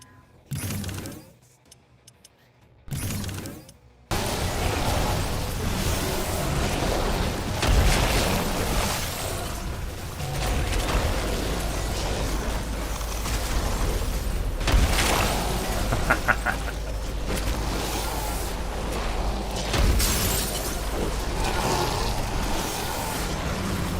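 Repeated booming explosions from a gravity grenade in a brick-building empire video game, loud and sustained with dense rumbling debris and scattered pops layered over constant low engine-like drone.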